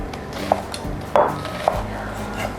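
A kitchen knife dices an onion on a board while brunch is prepared, with a few distinct close knocks spaced irregularly over quiet background rumble.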